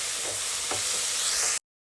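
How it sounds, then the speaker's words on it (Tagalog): Onion and tomato sautéing in a pan for pork binagoongan give a loud, steady sizzle and hiss close up, with a few soft stirring scrapes, cut off abruptly near the end. "Tuloy lang natin yung paggisa."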